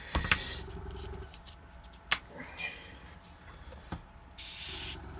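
An airbrush sprays yellow glaze onto a painted miniature in short hissing bursts, separated by clicks and handling noises, with a steadier, louder spray at the end.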